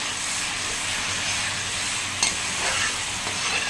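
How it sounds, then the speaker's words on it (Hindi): Garlic, ginger and chili paste frying and being stirred in a pan for dahi fish, a steady close sizzle with a few scraping stir sounds, no talking. "इसको अच्छे से मैं भून लूंगी, लहसुन अदरक मिर्च पेस्ट है इसमें"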